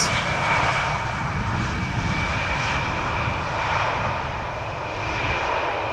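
An airliner's jet engines roar steadily as it lands at Schiphol airport, a broad, continuous rumble with a faint high whine that slowly swells and eases, heard from a distance with no talk.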